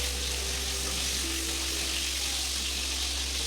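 Cut potatoes sizzle in hot oil for a vegetarian parwal and potato sabzi, a steady fine hiss filling the whole stretch with a faint low hum beneath and no voices.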